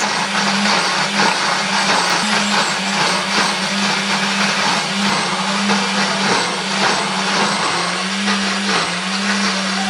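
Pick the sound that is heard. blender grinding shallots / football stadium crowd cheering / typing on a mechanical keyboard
blender grinding shallots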